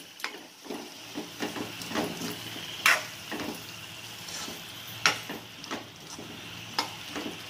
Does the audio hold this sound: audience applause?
no